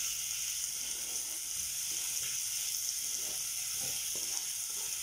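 Steady, loud sizzle of onions frying in a pan as tomatoes go in, a continuous hiss with faint stirring clatter and no talk.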